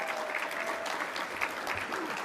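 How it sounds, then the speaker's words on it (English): An indoor audience at a business hall of fame event claps in steady, continuous applause, fairly distant and even throughout. "Give them a round of applause."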